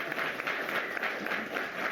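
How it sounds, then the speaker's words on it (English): Studio audience applause, a soft, steady patter of many hands clapping at a distance, fairly faint. "Applaud."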